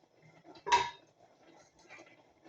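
A metal lid lands on a pot of browning meat with one clear clank, then faint light rattles of cookware in a quiet kitchen.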